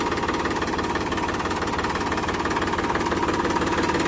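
A John Deere tractor engine runs steadily at idle, a continuous close, loud mechanical drone with a faint knocking pulse and vibration throughout, with no talk over it.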